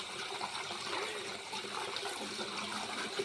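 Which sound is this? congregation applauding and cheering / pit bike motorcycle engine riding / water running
water running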